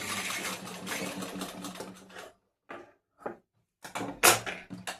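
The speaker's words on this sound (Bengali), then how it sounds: "এবার এই ধার বরাবর একটা সেলাই দিয়ে দেবো, যাতে না সুতো খুলে খুলে যায়।" A sewing machine stitches along the edge of a bra-cut blouse's fabric in close, loud bursts of rapid needle clatter separated by short silent pauses.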